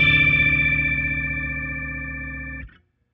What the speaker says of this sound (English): Here's the sound of my front panel right now.